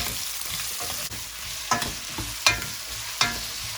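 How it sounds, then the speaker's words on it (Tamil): Red onions are stirred and sautéed in a hot pan: a steady frying sizzle runs throughout, broken by three sharp scraping strokes of the spoon near the end. "இப்போ ஸோ அதை போட்டு நல்லா நம்ம கிளறிடலாம். இது வதங்கட்டும் நல்லா."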